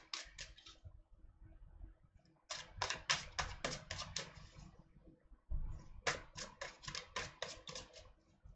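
Illuminati tarot deck being shuffled, several bursts of rapid card riffling and flicking with quiet handling between, close and fairly soft, no talking.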